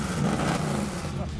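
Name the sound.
Dodge Demon car engine revving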